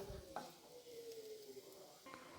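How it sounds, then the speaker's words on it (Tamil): Tamarind roasting in oil in a pan while making curry leaf powder, a soft sizzle with brief stirring scrapes, quiet and close. "இந்த மாதிரி புளி எண்ணெயில் போட்டு வறுக்கிறேங்க"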